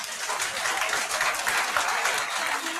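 A lecture hall audience at an exam coaching session breaks into steady, dense applause, a continuous wash of many hands clapping at moderate volume throughout.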